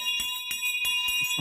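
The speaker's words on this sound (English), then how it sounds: "It's kind of like a Christmas bell." A small bell rings repeatedly like a Christmas bell, several bright metallic strikes in quick rhythm with sustained ringing tones between, close and clear.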